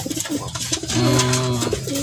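A kolong racing pigeon cooing up close, a loud, low, rolling coo repeated twice in quick succession.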